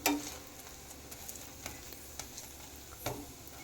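Paratha sizzling in oil in a frying pan, a steady soft hiss with scattered scraping taps of a spatula turning it, fairly quiet and close, with no voices.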